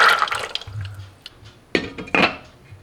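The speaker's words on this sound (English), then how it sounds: "Some water in the pan, enough to cover the beans." Water pours into a pan of boiled red kidney beans, with a first splashy gush, a quiet pause with low bubbling, then two more short, close pours and splashes.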